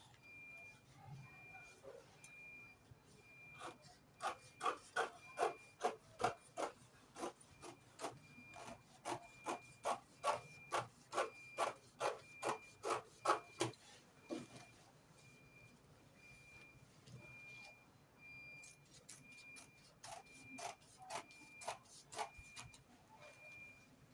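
Fabric is cut out for a sewn gown in a quiet room: a run of rhythmic, evenly spaced cutting strokes in the middle, with sparse, softer sounds before and after.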